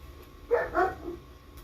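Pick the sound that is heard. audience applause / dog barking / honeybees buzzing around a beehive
dog barking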